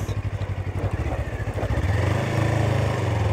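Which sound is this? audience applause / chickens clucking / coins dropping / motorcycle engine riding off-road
motorcycle engine riding off-road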